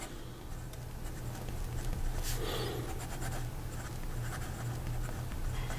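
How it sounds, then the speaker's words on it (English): Medium steel nib of a MarteModena Citizen fountain pen scratching softly across paper in steady, continuous strokes, close and quiet, with faint low hum in the background and no talking. "So here we go with the writing sample for the MarteModena."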